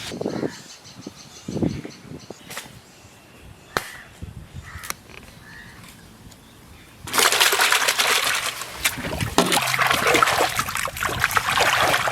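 Water splashing and trickling as rice is washed by hand while cooking yellow pulao, with scattered clinks and sloshes at first, then a sustained, louder rush of running water.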